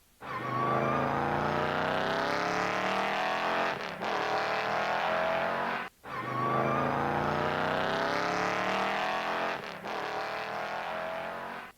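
A car engine runs steadily and loudly from inside the cabin, with the tone rising and falling through gear shifts and two brief dips in power, no talking over it.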